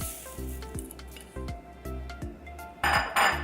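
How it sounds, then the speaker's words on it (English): Date ball mixture gets stirred with Rice Krispies in a bowl: repeated scraping strokes and soft clinks of a utensil against the bowl at a steady rhythm, ending in two louder crunchy, rustling passes, close up with no talk. "And then start mixing everything together"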